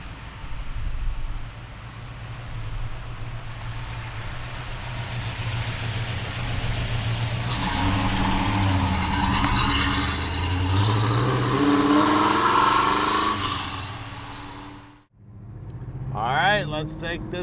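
A deep, rumbling big-block V8 engine in a 1970 Oldsmobile 442 idles steadily nearby, swelling slightly in the middle before a brief drop and restart near the end.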